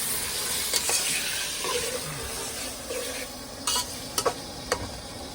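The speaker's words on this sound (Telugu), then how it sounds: "ఇక మనం ఇదైతే కలబెట్టుకుందాం మొత్తం." Cauliflower and tomato curry sizzles steadily in a pan inside a bus kitchen while a spoon scrapes and knocks against the pan several times, close and alone without talk.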